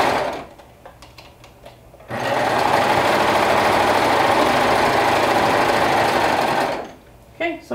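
A sewing machine runs a continuous top-stitching seam for about five seconds, a fast steady mechanical hum and patter, with quieter handling noises before it starts and after it stops.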